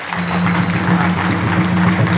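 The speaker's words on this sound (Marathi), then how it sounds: "त्यांच्यासाठी एकदा जोरदार टाळ्या वाजवा" Audience at a kirtan event in Dubai clapping loudly, a dense sustained burst of applause without pause, with a steady hum beneath.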